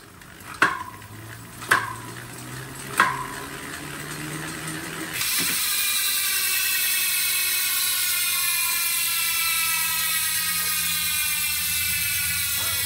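A road bike with a Shimano 105 Di2 drivetrain, 52-tooth Alugear chainring and press-fit 30 bottom bracket: three sharp mechanical clicks, then a steady whirring hum of riding at speed.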